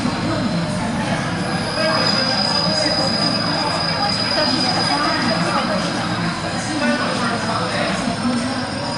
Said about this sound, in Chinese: 列车马上就要进站了。